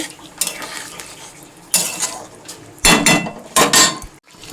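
A metal lid is handled on a pot of spicy Bengali egg curry (dim kosha), giving a few sharp clanks and scraping clatters in separate bursts with quieter gaps between them.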